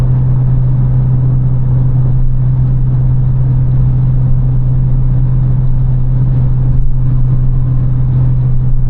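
Cabin sound of a BMW 325i E93 convertible with the N53 engine and a backbox delete, cruising uphill in 6th gear around 80: a loud, steady low drone and rumble, constant throughout.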